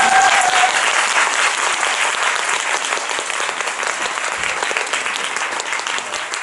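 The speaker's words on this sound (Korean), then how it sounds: "큰 박수 부탁드리겠습니다" Loud, close applause from a theater audience after a post-show talk for the musical Kiss of the Spider Woman, a steady dense clatter of many hands throughout.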